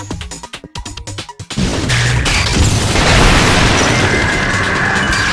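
A missile strikes and explodes in the Nintendo DS shooter Liberation Maiden: a series of sharp booming hits in the opening second and a half, then a loud, sustained roar of explosion and debris that fills the rest.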